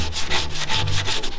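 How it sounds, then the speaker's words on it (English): Steady back-and-forth rubbing of 180-grit sandpaper on cured body filler on a car, repeating in a quick regular rhythm, close and fairly loud with no voices. "So now I'm just waiting for it to set up completely and I'll start sanding it."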